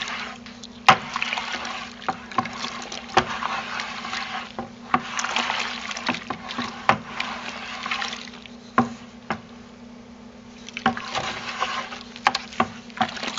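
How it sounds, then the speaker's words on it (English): Homemade liquid laundry soap of borax, washing soda and bar soap being stirred in a bucket of water, giving continuous sloshing and swirling liquid noise with irregular clunks of the stirrer against the bucket, close and moderately loud with no talking. "So we're going to stir this up one last time."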